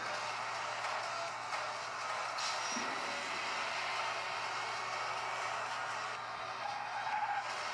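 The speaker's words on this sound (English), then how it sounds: "Drift to get more points" Car drifting with tire skid in the arcade racing game Asphalt 6 Adrenaline: a steady, fairly loud engine and skid wash runs throughout at even level, with no voices.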